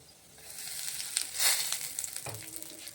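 Bay leaves, whole garam masala, dried chilli and a pinch of asafoetida frying in hot oil for a ridge gourd dish give a steady, close, bright sizzle that swells briefly in the middle, with a few soft stirring clinks and no voices.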